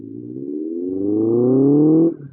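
BMW K100 motorcycle engine winding up with a smooth, rising note for about two seconds, then cutting off abruptly as the throttle closes.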